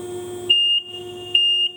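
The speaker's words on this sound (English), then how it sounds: "then the alarm goes on, which is coming up" An abrasive flow honing machine (Extrude Hone Profile 100) sounds its end-of-cycle alarm: two steady, loud electronic beeps of about a third of a second each, separated by a short pause, over a low machine hum.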